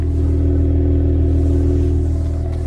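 A 2025 Cadillac CT5-V engine rumbles steadily at idle through a quad-tip exhaust with a deep, throaty note, loud and close, with no talking.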